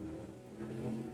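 A car engine swells and recedes as the vehicle drives past at moderate distance, a brief rising and fading rumble.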